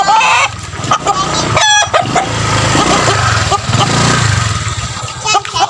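A chicken being bathed clucks and crows nearby amid rustling and background noise, with voices talking intermittently.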